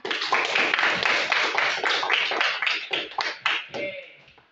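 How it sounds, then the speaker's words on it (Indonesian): Students in a classroom clapping together, a fairly close, lively burst of hand claps that breaks into a few separate claps and trails off. "kasih tepuk tangan"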